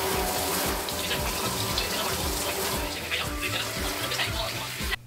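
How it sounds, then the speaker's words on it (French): Water running steadily from a tap while dyed purple hair is rinsed in a sink, a continuous close splashing rush that cuts off abruptly at the end. "Je viens de finir de rincer mes cheveux."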